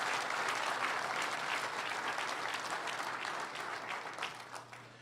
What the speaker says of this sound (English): Let's get one last round of applause for that entire group of fine folks who made this possible